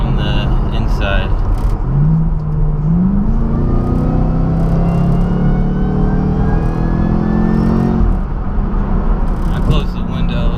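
Supercharger whine and exhaust of a Camaro ZL1, heard from inside the car: a loud, steady engine roar with a rising whine, continuous and close, with faint talk over it.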